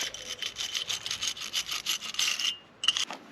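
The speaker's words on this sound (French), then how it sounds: "Passer un petit coup de brosse de fer." A wire brush scrubs old orange deposits off a thermostat housing on a Mercedes-Benz W210 E290, giving quick repeated rasping strokes up close, then a short pause and a couple more strokes.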